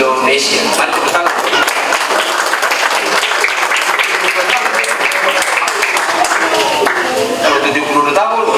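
A church congregation applauds at the GPKAI El-Roy 72nd anniversary service, with dense, steady clapping from a large crowd filling the whole stretch and some voices mixed in.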